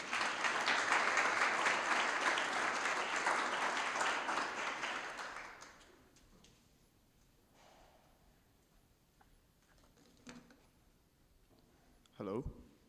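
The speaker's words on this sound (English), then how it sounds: "Let's go ahead and give him a round of applause." Loud applause from an audience at a startup demo day greets a company founder, filling the first six seconds before fading into quiet room noise with a few brief bumps.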